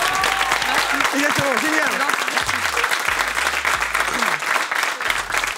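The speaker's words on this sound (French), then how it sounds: "applaudir Camille Lelouch" A talk-show studio audience applauds, a dense burst of clapping that runs throughout while hosts talk briefly over it.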